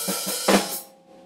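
A slightly open hi-hat plays a rock drum groove, giving a few quick, close washy strikes that ring briefly and then fade out.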